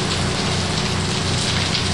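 Steady, heavy rain falling close by as a dense, unbroken hiss and patter on surfaces, loud and even throughout, with no voices.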